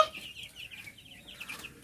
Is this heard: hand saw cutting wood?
no